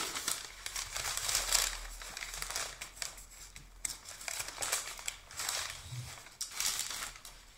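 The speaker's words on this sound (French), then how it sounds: "Donc je l'ouvre en direct, c'est un unboxing." Plastic wrapping and packaging crinkling close up as a parcel of beauty products is unboxed, a continuous irregular rustle and crackle with louder bursts of handling.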